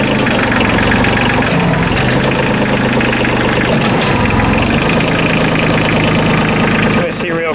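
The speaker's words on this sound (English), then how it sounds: "get a video of underneath the hood while the engine's running" Kioti CK27 compact tractor engine running steadily at idle, a loud, close, throbbing diesel rumble with rhythmic knocking that continues throughout, with a brief clatter near the end.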